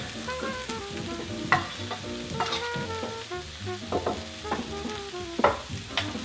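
Chicken pieces sizzle in sauce in a pan, with loud, steady frying and repeated scraping stirs of a utensil against the pan, close up and with no talking.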